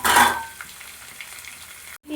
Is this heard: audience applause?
no